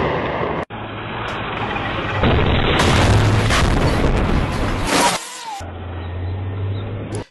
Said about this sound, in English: the tank is going over a mine or an IED